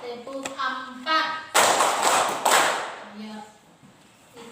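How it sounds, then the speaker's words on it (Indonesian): A classroom of students claps in a counted pattern. Short vocal calls alternate with bursts of clapping, with the loudest sharp claps near the middle. "tepuk 1, tepuk 2, tepuk 3,"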